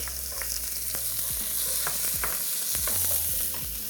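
Onion and garlic sauté in hot oil with a continuous, bright sizzle, broken by occasional scraping stirs and a low steady hum underneath; close and fairly loud, with no talking.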